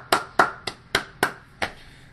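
Six sharp hand claps in a slow, slightly uneven rhythm, close and distinct, with quiet gaps between them.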